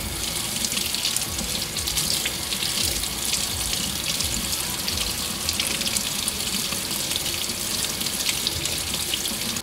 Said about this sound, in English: we have water running on it